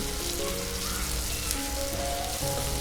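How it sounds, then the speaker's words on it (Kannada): Onion and finely chopped tomato fry in a pan for methi pulao, giving a steady, close sizzle with faint crackles throughout and no voices. "ಒಂದು ದೊಡ್ಡದು ಟೊಮೆಟೊ ಸಣ್ಣಗೆ ಹೆಚ್ಚಿರೋದು ಹಾಕ್ಕೊಂಡು ಟೊಮೆಟೊ ಸಾಫ್ಟ್ ಆಗುವವರೆಗೂ ಹುರಿದುಕೊಳ್ಳಿ"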